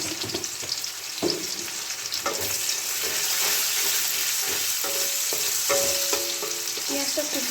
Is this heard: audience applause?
no